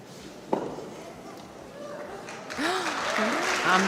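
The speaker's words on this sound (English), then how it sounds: "Big applause" Applause breaks out at a German puzzle championship speed-puzzle round as the first competitor finishes. Quiet talk comes first, then clapping swells in the last second and a half with voices and cheers over it.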